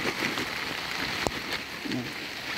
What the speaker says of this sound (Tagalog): Ganyan pa rin muulan kanina.